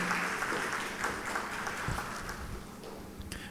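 An audience at a startup pitch event claps in a steady, moderately loud round of applause that fades slightly toward the end.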